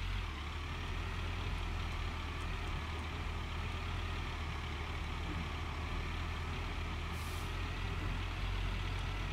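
A heavy truck driving in the Gold Rush mining video game, a steady, continuous engine rumble with no change in level throughout.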